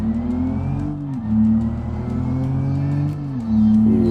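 An Ibishu Claira driven hard in BeamNG, its engine droning loudly and steadily with pitch rising and falling as revs shift, plus some tire scrub, with no voices over it.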